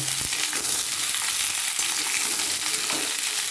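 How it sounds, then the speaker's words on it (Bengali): Sliced ridge gourd and potatoes fry in a hot pan with a steady, close sizzle, while a utensil stirs them with soft scraping and clinks. "ঝিঙে আলুটা যে কেটে রেখেছি আস্তে আস্তে সম্পূর্ণ দিয়ে দেবো সম্পূর্ণ দিয়ে একটু ভালো করে মিশিয়ে নেব"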